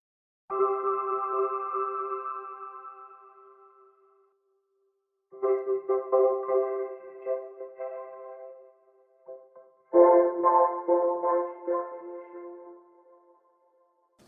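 Robotic vocoder voice built from a soft, ringy, spacey synth pad in Ableton Live, sounding in three sustained harmonic phrases separated by short gaps, with no plain speech.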